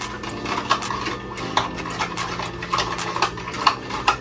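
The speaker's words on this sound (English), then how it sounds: "I just kind of mix the sugar and dissolve it into the water" Sugar is stirred into water for a home wine kit, a spoon clinking and scraping against the container in an irregular, fairly loud rhythm over a low steady hum.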